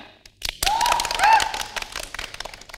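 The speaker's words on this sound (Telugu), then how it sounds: "క్లాప్స్." A studio audience claps at a Telugu comedy show taping, a dense burst of applause that swells quickly and holds, with a faint tonal whistle riding on top before trailing off.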